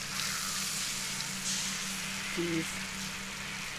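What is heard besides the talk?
hot dogs sizzling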